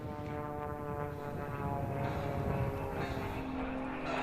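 An airplane flying a shark's tooth aerobatic manoeuvre at the Hill Air Show sends out a continuous, loud engine roar with a steady droning hum and slowly shifting pitch, heard from a distance and outdoors.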